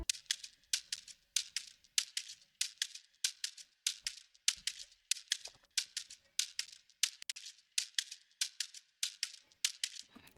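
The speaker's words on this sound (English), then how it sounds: "So my shaker sound like this." Shaker sample looping in an Afrobeat beat made in FL Studio: a steady, bright, hissy rhythmic shuffle of short strokes in an even pulse, fairly quiet and alone with no talking.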